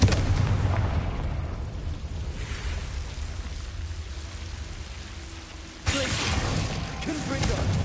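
A Confringo blasting-curse explosion in Hogwarts Legacy, a sustained rumbling roar that fades over several seconds before a second sharp burst erupts, loud and dense with low-end debris noise.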